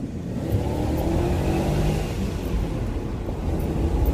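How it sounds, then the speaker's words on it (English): BMW E39 car accelerating hard, its engine droning steadily and loudly throughout as it is pushed toward the rev limiter, with no talk. "hit the rev limiter"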